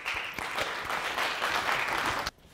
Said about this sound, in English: So let's give him applause, please.